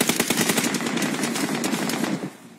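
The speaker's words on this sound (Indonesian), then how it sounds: "Ramai tembak." Rapid automatic gunfire in a competitive shooter game, a dense sustained spray of sharp, loud shots rattling continuously for a couple of seconds before cutting off, with no talk over it.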